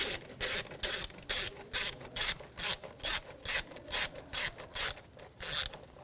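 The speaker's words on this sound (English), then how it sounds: "Loosen up the worm clamp here, use a 7mm socket." Socket ratchet loosening a worm-gear hose clamp on a 2013-2019 Ford Escape 2.0L engine, about a dozen short rasping clicking bursts in a steady rhythm, close and distinct with no talk.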